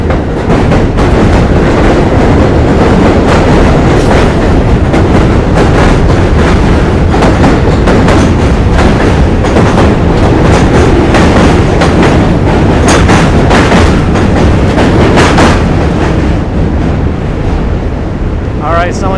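A train rushes past at close range on a New York City commute from Brooklyn to Manhattan, a loud, sustained roar with rattling and buffeting wind noise that stays intense throughout.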